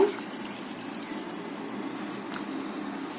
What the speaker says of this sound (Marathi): मी असं पाणी घालते गवार बुडेपर्यंत